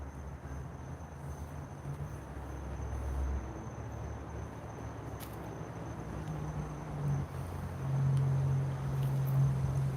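Frogs and insects call outdoors at night beside an old water pumping station in Hawaii: a thin, steady high insect whine runs throughout, with low croaking notes rising near the end.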